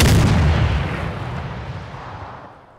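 A single heavy explosive charge blasts in ArmA 3, a loud close boom that opens abruptly and then rumbles and decays over a couple of seconds.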